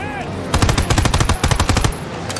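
Loud, close automatic gunfire during the Operation Overlord mission to retake Marigny town in Call of Duty WW2, with rapid machine-gun bursts rattling for over a second, a short break, then another burst.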